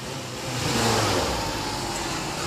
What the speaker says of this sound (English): Put it in neutral. Hey, fuckers! Rev it, let me hear it.